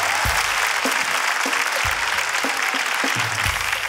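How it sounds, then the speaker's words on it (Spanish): Studio audience applause at a Peruvian stand-up comedy show, loud continuous clapping with low thumps scattered through it, a crowd sound that carries on without a pause. "Y que siga el aplauso. Más fuerte"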